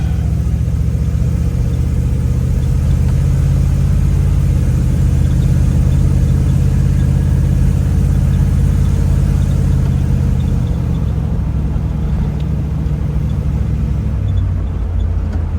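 A 1957 Chevy Bel Air 2-door Sport Coupe restomod with a rebuilt engine idling steadily, a loud, close, deep rumbling burble that holds even throughout with a slight dip near the end, no voices.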